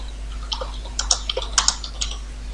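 Keystrokes on a computer keyboard while a channel name is typed into a Microsoft Word document, a quick irregular run of light clicks close by over a steady low hum.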